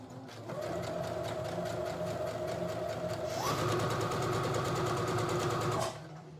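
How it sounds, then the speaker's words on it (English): A sewing machine stitches a cotton skirt, running in one steady whir before shifting pitch as it reverses, forward then backward stitching, close and continuous, with no voices. "you do get those 3 stitches forward and 3 stitches backwards in"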